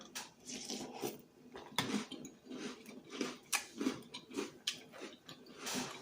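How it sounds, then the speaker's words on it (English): Someone chews a bite of Crunch Berries cereal, with a steady run of close, loud crunching bursts and brief pauses between bites. "let me take a bite of my crunch berries first."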